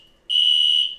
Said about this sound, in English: Oh, that's my fire alarm.